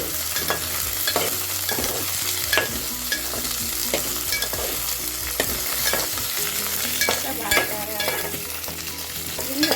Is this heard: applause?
no